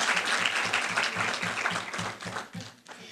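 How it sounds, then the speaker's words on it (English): Clapping from an audience at a 4-H public speaking program, honoring the finalists: a dense, steady patter of many hands that carries for about three seconds and thins out near the end. "Yes, round of applause."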